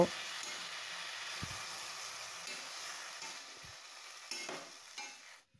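Elephant apple chutney with sugar and a cup of water is stirred in a pan, a quiet steady simmering hiss with a few soft scrapes and knocks of the spoon.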